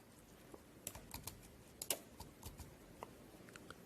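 Computer keyboard typing while entering a web address for an app connection, a quiet, irregular patter of clicks and key taps spread across the stretch, with a slightly louder burst of strokes near the middle and no one talking.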